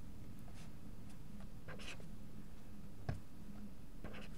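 A pen or chalk writes on a board during a math lecture on partial differential equations, with light scratchy strokes and taps at irregular intervals over a quiet, hissy room.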